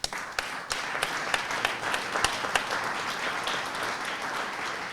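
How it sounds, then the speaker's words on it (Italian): A gallery audience at an exhibition opening bursts into applause. Sharp initial claps swell into a steady, moderately loud ripple of many hands that holds for several seconds without voices. "io gli farei un applauso a prescindere."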